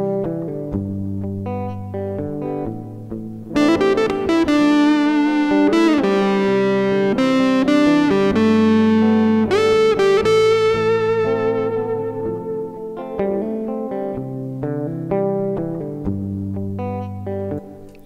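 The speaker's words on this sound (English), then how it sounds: "Do it with some distortion, and this is what it would sound like." A distorted electric guitar plays a lead over a chord progression, sustained harmonically rich notes shifting through several changes and swelling louder in the middle, with reverb and no voices.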